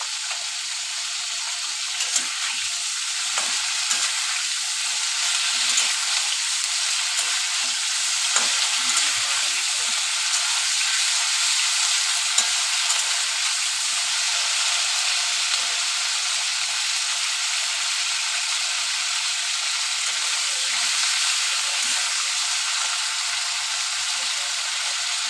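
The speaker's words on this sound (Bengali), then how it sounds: "ফুলকপি ভাজা হয়ে গেছে, এবার আমি তুলে নেব।" Cauliflower frying in a pan gives a loud, steady sizzle with hissing spatter that runs unbroken throughout, with no talking.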